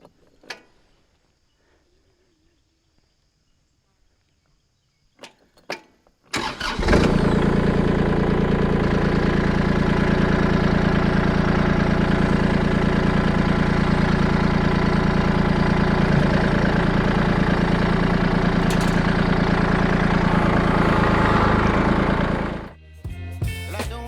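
After a few quiet seconds a Kubota engine cranks and catches, then settles into a steady, loud, close idle that runs for about fifteen seconds before cutting off.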